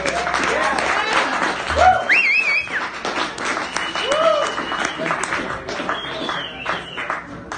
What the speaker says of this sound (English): give another round of applause for Laura